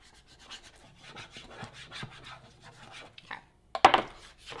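A spatula scrapes and rubs across vinyl being smoothed onto a cutting mat, a soft rasping series near the mic, ending in a couple of sharper scrapes.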